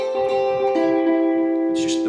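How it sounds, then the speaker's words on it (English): Electric guitar picks out a sung melody in the major pentatonic, with sustained harmonic notes trailing into a delay wash, heard alone and close. "It's just the melody, the vocal melody played on the guitar."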